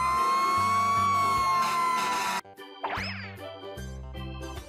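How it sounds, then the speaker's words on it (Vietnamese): A fire truck siren wails loudly and up close, its tone sweeping and sustained, broken by a brief cut and a springy boing-like effect partway through before the siren resumes. "Fire truck."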